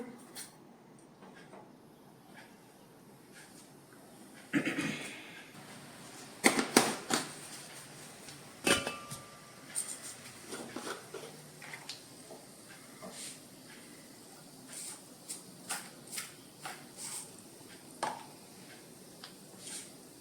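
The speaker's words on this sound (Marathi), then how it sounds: "मोहरी तडतडली आहे" Mustard seeds crackle and pop in hot oil as tempering begins for a Maharashtrian horse gram (kulith) usal, a soft hiss first, then scattered sharp close snaps that continue in an irregular patter.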